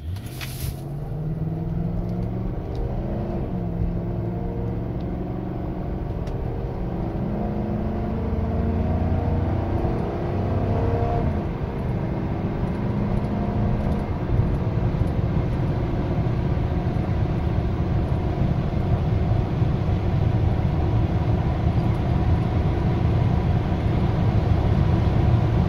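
Mercury Marauder accelerating at part throttle, engine note climbing steadily through several gear shifts heard from inside the car, a continuous moderate drone with no talk.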